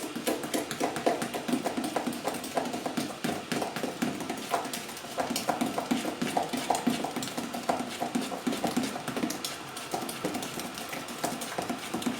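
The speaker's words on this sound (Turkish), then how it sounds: "Bundan sonrasını kaşıkla karıştıracağız." A metal spoon stirs yogurt in a pot or bowl, giving a steady run of soft clinks and scraping taps that repeat evenly throughout.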